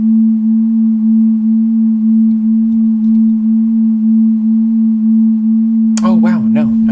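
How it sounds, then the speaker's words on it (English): A steady synthesized sine-wave drone, produced with layered oscillators, holds a single low pitch with a slow pulsing beat for six seconds before bright warbling, chirping tones suddenly join near the end. "sine waves"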